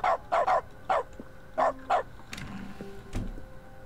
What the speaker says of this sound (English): Oh, it barks instead of typing sound.